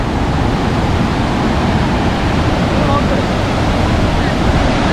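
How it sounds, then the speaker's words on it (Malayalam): Vazhachal waterfall in Kerala roars with a loud, constant broadband rush of falling water, close and unbroken from start to finish. "ഇത് വലിയ വെള്ളച്ചാട്ടമാണ് കേട്ടോ"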